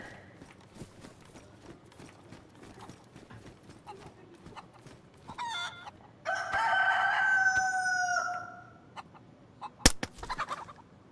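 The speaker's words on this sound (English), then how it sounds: "Oh wait, that's a rooster." In the DayZ video game, a rooster gives one loud, drawn-out crow. Before it come rhythmic clip-clop steps, and a sharp knock and a few clucks follow it.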